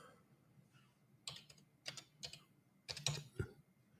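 Someone types on a computer keyboard at close range, tapping keys in short quick clusters separated by brief pauses, quiet and alone.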